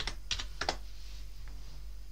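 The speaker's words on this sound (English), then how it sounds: "Just type in your password." A few quick computer-keyboard keystrokes as a password is entered on a Linux desktop, clustered in two short bursts near the start and then giving way to quiet room hiss.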